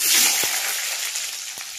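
Sweet potato and carrot frying in hot mustard oil, a steady broadband sizzle with a couple of soft knocks from stirring, close and continuous with no talking.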